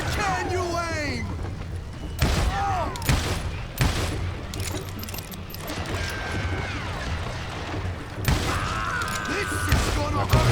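Gunfire erupts in the Wild West shooter Call of Juarez: Gunslinger, with repeated sharp shots in irregular bursts mixed with booms and crashes, under frequent shouted voices.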